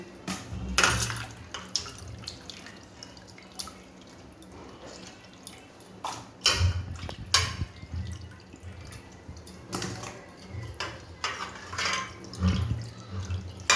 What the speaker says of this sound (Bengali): সুন্দর করে মাংসটা আমি ধুয়ে জল ঝরিয়ে নিচ্ছি